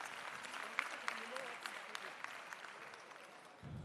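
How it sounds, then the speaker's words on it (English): An audience at a provincial political party conference claps, a soft scattered patter of applause that fades and thins out, heard faint and somewhat distant. "Can we give the Chair another round of applause, comrades?"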